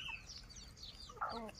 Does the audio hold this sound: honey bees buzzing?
no